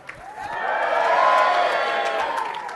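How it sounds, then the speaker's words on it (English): Award ceremony crowd answering with a louder burst of cheering, whoops and clapping that swells and holds throughout, a full room reacting together. "give yourselves a big cheer if you're here as a finalist."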